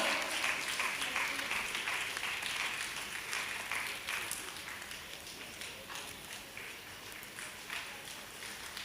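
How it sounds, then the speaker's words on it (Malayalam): Sustained applause from a ceremony audience for an honoured guest, steady and fairly loud across the whole stretch, with dense clapping that fades slightly toward the end. "നല്ലൊരു കൈയടി കൊടുക്കാം"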